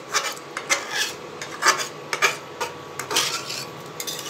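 Masala gravy with a little boiled water being stirred in a pan while making paneer and kulcha at home, giving repeated short scraping and rasping strokes of a spoon against the pan, close and distinct with no talking.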